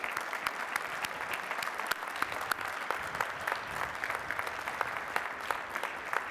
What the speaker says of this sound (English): Please recognize the Bachelor of Science degree recipients with our hearty congratulations